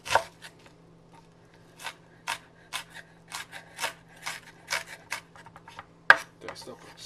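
A knife dicing half an onion on a cutting board for a mac and cheese sauce, a run of crisp, regular chopping taps up close with a low steady hum behind them.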